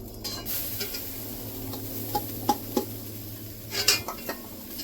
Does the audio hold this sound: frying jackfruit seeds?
yes